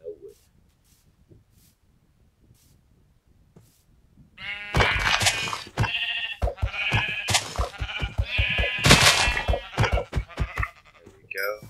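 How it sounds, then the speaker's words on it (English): Minecraft sheep bleat in a survival game, several short wavering bleats from about 4.5 seconds onward after near silence, fairly loud and close, overlapping one another. "None of the sheep here, though. Two sheeps, good."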